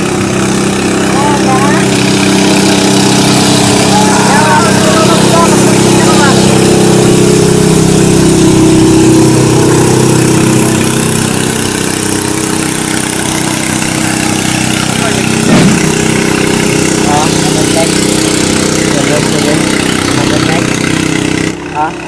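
A new pumpboat engine runs loud and steady on the water, a dense continuous mechanical drone that fills the scene while people talk over it.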